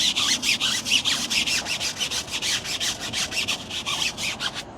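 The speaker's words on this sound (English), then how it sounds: "So I got my scrub brush just dipped in the rinseless." Scrub brush dipped in rinseless wash being scrubbed across a dirty car tire, a steady, close, bristly back-and-forth rasp in quick repeated strokes throughout, with no talking.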